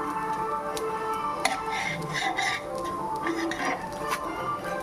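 Crispy pesarattu, a mung bean dosa, is lifted off a hot pan with metal scraping and light clinks of spatula on pan, close and moderately loud, while a voice talks in the background.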